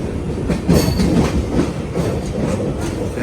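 A passenger train pulling out of Thrissur station, wheels clacking and rumbling close by with faint squeals over a steady rolling roar, no speech.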